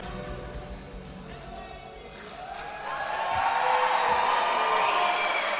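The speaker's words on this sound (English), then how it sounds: "the crowd could just no longer hold their silence, and they broke out into a roar of encouragement for Lasha" A weightlifting competition crowd breaks its silence for Lasha Talakhadze's attempt, and a murmur rises into a loud, sustained roar of encouragement with whoops that builds over the last few seconds.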